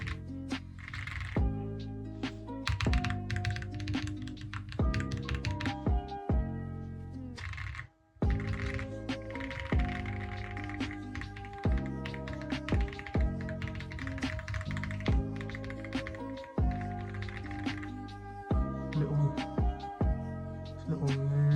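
A new aluminium keyboard is typed on up close, giving a fast, continuous run of crisp key clicks with only a brief pause.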